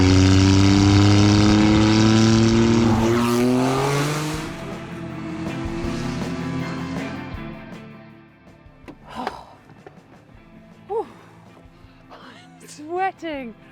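A Jaguar XJ220 supercar roars past, engine loud and close, then fades away into the distance as its pitch drops. Scattered voices and short sharp sounds follow in the quieter stretch afterward.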